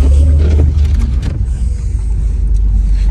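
An auction-bought car's engine surges loudly from inside the cabin, a strong low rumble that swells early and then settles into a steady drone, with no talk.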